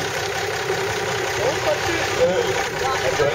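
A Unimog engine idles steadily at a car show, a constant mid-pitched mechanical hum with a slight rise in revs toward the end, while someone talks over it.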